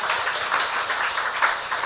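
A church congregation claps during a service, giving a dense, even patter of many hands that holds steady for a couple of seconds.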